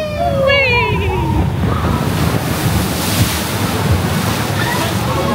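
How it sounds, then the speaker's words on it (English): Water from a log flume plunge on Tiana's ride at Magic Kingdom splashes and rushes in a loud, continuous wash with wind buffeting the microphone, and excited voices cry out at the start. "Oh, it's always the splashback."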